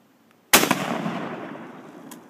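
A single Mauser Kar98k rifle shot fired outdoors at a rock, a sharp close crack followed by a long fading echo.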